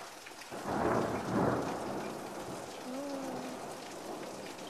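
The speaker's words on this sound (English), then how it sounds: "That lightning just hit that house down there." Thunder from a lightning storm in Los Angeles, California rumbles in two heavy rolls over steady rain on surfaces, then fades into a continuous downpour.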